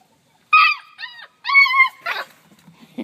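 Puppies whimper and howl in a few high, wavering cries close by, with short pauses between them, followed by softer snuffling and rustling.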